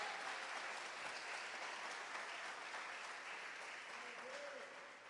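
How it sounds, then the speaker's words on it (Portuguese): A church congregation claps hard and steadily during a worship service, a continuous wash of applause heard from some distance that tapers slightly at the end, with no clear voices over it. "dá uma salva de palmas ao Senhor, bem forte a Ele."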